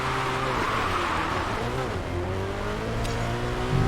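Racing Master video game car engine revving and accelerating steadily, with rising and falling harmonic engine tones throughout, loud and continuous like an in-game race start.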